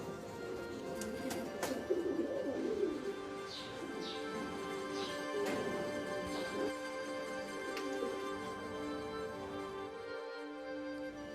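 Racing pigeons coo softly in scattered, low calls spread over roughly eleven seconds, set against a steady background hum.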